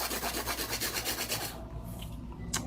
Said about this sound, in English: It's a 100 grit that I'm using right now to do the hand filing.